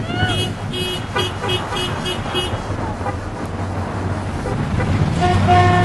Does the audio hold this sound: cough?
no